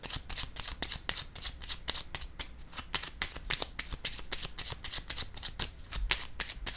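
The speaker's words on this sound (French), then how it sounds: "Je vais déposer une carte en cette zone." Tarot cards are handled and laid down in a steady run of crisp, close papery flicks and snaps, dense and rhythmic throughout, with no voice.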